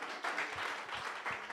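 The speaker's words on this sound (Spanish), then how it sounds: "entonces un fuerte aplauso" Audience applause at a podcast conference, a soft, steady wash of many hands clapping that sounds somewhat distant and muffled, with a few louder claps rising out of it.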